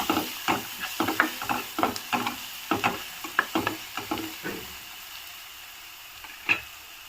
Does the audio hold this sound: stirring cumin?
yes